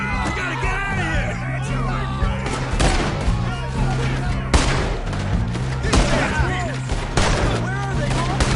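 In a Red Dead Redemption 2 shootout, a steady barrage of gunshots cracks out alongside shouting voices and background music. The shots come in close, loud bursts throughout.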